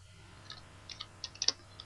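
Several sharp key clicks tap out a short command on a computer keyboard while drafting in AutoCAD, faint and close, with a soft low hum beneath.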